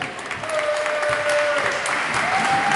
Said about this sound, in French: veuillez applaudir, même s'ils ne jouent pas avec nous aujourd'hui